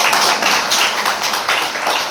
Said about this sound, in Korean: 박수처럼 척척 빨리 쳐